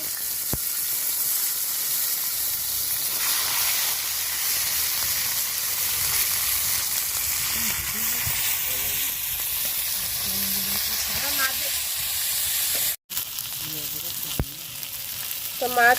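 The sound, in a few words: river bata fish frying in oil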